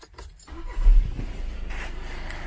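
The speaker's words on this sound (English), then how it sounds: "Maybe let's check over here how will this look while I'm cranking the engine." A car engine cranks briefly with a low rumble and catches, then settles into a steady idle. Keys jangle faintly at the start.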